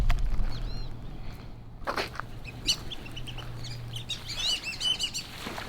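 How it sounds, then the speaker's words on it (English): Birds call and chirp outdoors at wetlands in Edinburg, Texas, over a low steady hum, with scattered short tweets and a few quacking sounds from ducks toward the end. "Hey, ducks."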